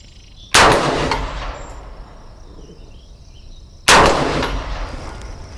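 Two loud, sharp 5.56 rifle shots with the metallic ring of bullets striking steel silhouette targets at an outdoor range, spaced about three seconds apart, each followed by a long decaying echo.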